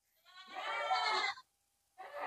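Goats on a farm with a herd of around 80 bleat loudly in a sustained, wavering cry, then a second bleat starts after a short pause, close by and with no talk.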